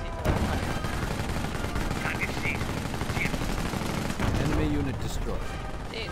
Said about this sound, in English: Taking German fire!